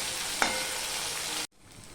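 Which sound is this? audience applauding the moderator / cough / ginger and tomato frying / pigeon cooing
ginger and tomato frying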